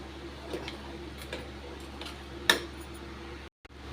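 Thavala adai batter with grated coconut being stirred in a bowl, with soft scattered clinks of a utensil against the dish and one sharper ting, faint and close against a quiet room.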